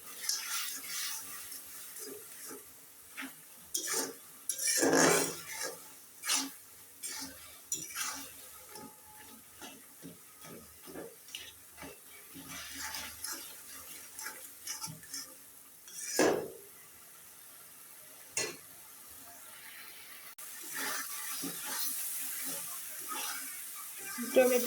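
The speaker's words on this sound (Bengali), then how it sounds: "এখন এটা আমি ভালোভাবে কষিয়ে নিব।" Tomatoes being stirred and fried down in a pot for a sour dal-style dish, with repeated clinks and scrapes of a utensil against the metal at an irregular rhythm, fairly close and moderately loud, under faint background noise.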